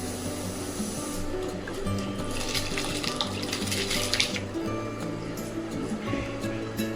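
Water pours steadily into a metal pot holding rice for biryani, a continuous splashing rush with a ringing tonal hum underneath, no voices.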